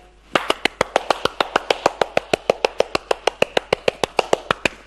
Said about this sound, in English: Clapping can be the first sound in my demonstration.